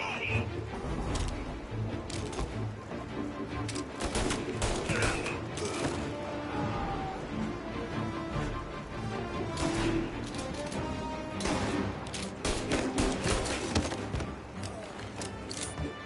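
Dense, continuous gunfire in the Mafia video game, with rapid bursts of loud shots and impacts stacked over one another and voices shouting beneath.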